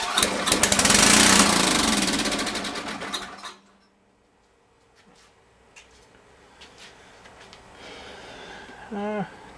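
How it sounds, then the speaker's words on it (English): A generator engine, its carburetor cleaned and primed with fuel, fires up loudly and runs roughly for about three seconds before cutting out, leaving near silence with faint handling noises afterward. "then we will see if it has the output and the motor starts"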